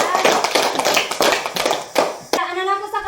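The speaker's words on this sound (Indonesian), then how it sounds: "Ya, tepuk tangan." Children in a primary school classroom clap their hands in a quick, loud burst of rhythmic group claps that stops sharply, after which a teacher's voice begins speaking.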